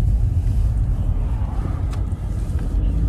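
A 2012 BMW 520d M Sport Touring accelerates from inside the cabin, heard as a loud, continuous low engine and road rumble with wind noise and no talking.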